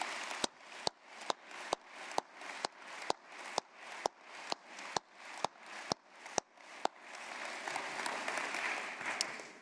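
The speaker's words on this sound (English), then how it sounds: "Please join me in giving them a round of applause" Applause from an audience at an evening award ceremony at Stanford business school, starting as sharp separate claps spaced nearly evenly and then swelling into a dense steady wash of clapping at the end.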